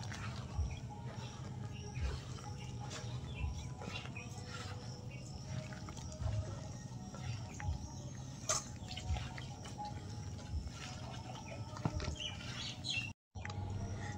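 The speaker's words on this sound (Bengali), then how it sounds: "এবার এর মধ্যে অল্প অল্প জল দিয়ে মাখিয়ে দেবো" Malpua batter being mixed by hand while small amounts of water are added, soft wet squishing and dripping pats repeating steadily and quietly up close, with faint background noise.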